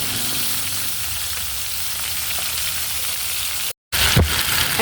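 Buttered chicken with rosemary fries in a pan, a loud, steady, close sizzle that cuts out for a moment and then returns with a bit of stirring.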